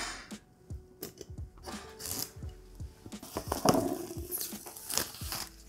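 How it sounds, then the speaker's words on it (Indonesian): Plastic wrapping torn and crinkled off a Keychron K8 TKL keyboard box, close and fairly quiet, with irregular rustling, crackling and sharp snaps across several seconds and no talking. "Kita buka plastiknya."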